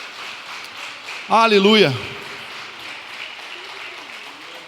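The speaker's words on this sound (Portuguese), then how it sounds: "Dê um aplauso bem gostoso para o Senhor Jesus." A church congregation claps steadily through a Santa Ceia service while a voice calls out loudly over the applause partway through.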